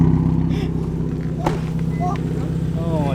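A Subaru with Tomei exhaust headers, equal or unequal length, revved high: a loud, steady, throaty exhaust drone close by, holding without break throughout.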